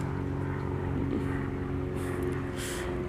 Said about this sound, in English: Airplanes flying over here.